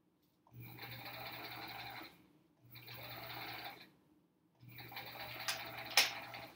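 Sewing machine stitching a paper-pieced quilt block runs in three steady bursts of whirring hum separated by short pauses, close and alone, with a small click near the end.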